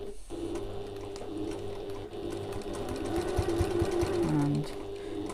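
A sewing machine stitches the seam of an evening bag worked on the free arm, running in a steady close hum that speeds and slows as the fabric is manoeuvred, with a brief pitch change near the end.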